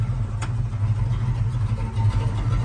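A 1978 Pontiac Trans Am Hurst Edition with a Z-code 400 V8, Edelbrock aluminum heads, intake and exhaust, and 3-inch exhaust idles with a steady, deep, close rumble and slight pulsing, no voices.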